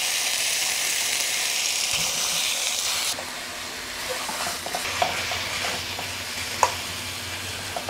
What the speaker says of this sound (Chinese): 那首先我们用牛杂肉片开锅吧